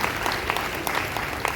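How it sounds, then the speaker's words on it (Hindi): An audience at a Brahma Kumaris spiritual gathering bursts into a short round of applause. The clapping is dense and even at moderate loudness, with a few sharper claps standing out. "ताली बजाओ इन सबके लिए।"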